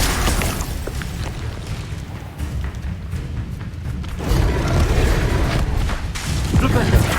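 Confringo fire spells blast repeatedly in Hogwarts Legacy, a series of deep booming thuds and bursts, some close and loud, mixed with a voice talking over them.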